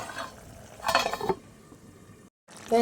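A metal lid clanks onto a cooking pot of chicken bharta on a gas stove at medium heat, a short clattering burst followed by quieter settling sounds and a brief silence.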